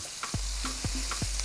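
Ground chilli sambal frying and sizzling in a pan for potato and anchovy sambal, with a steady loud sizzle and three or four rhythmic scrapes of a spatula stirring, close and alone.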